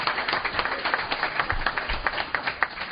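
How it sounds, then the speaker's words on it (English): A live show audience claps steadily in a brief round of applause, a dense spread of hand claps with a few louder ones standing out, with no talk over it. "How about a round of applause for these guys?"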